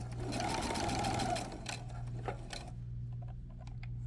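Sewing machine stitching a neckline seam allowance to bias tape, a fast close mechanical whirr for about a second and a half, then slowing to scattered soft ticks and clicks under a low hum.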